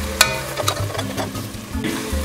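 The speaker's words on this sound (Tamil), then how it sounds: "இந்த பச்சை மிளகாய் நல்லா வதங்கட்டோங்க" Sliced green chilies frying in oil in a pan give off a steady, close sizzle with a few sharp crackling pops near the start.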